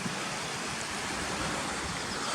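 Water running down through rocks toward the River Swale, a steady broadband rush heard close and unbroken, with no voices.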